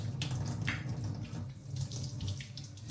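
Tap water running steadily into a sink, a continuous broadband rush that stays fairly even and close throughout, alone without talk.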